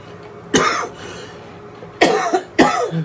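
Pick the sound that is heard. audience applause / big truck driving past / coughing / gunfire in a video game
coughing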